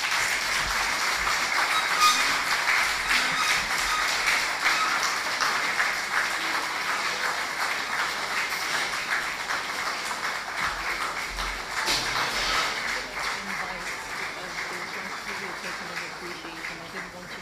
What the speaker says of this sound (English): Please, another round of applause for Ms. Zawoshka.